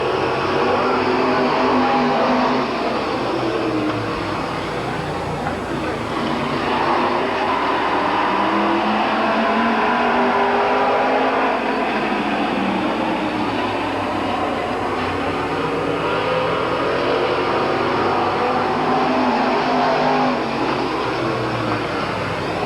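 Race cars roar around Midvale Speedway in a dense, continuous engine drone that stays loud and steady throughout, with rising and falling tones as cars pass, heard from a distance across the track.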